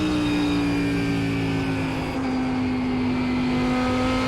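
A race car engine in iRacing at USA International Speedway holds a loud, steady high-pitched drone with a slowly shifting tone, running alone without a break.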